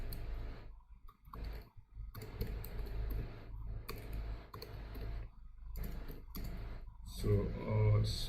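Clicky typing on a computer keyboard while coding a NestJS REST API, bursts of keystrokes with brief pauses, mixed under steady talking.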